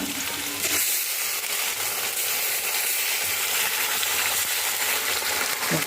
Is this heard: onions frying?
yes